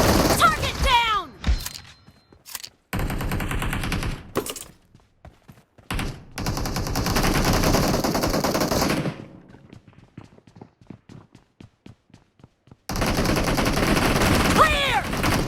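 M1014 shotgun blasts in PUBG Mobile come in loud bursts of rapid booming shots separated by short gaps, with mechanical clacks and quieter stretches between volleys.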